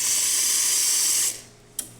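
A Lelit Bianca V3 espresso machine's hot water tap rushes with a bright, steady hiss that shuts off partway through, followed by a quiet lull and a sharp click as it closes.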